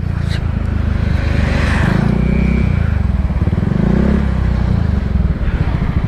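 A loud motorcycle with an aftermarket exhaust rumbles and throbs up close with a deep, rough exhaust note, revving slightly as it rides.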